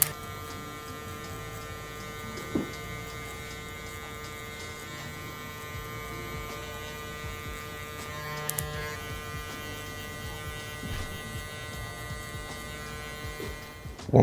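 Electric hair clippers buzz steadily through a burst fade fohawk haircut, a constant close hum with a few brief clicks and knocks as the guard lever is adjusted.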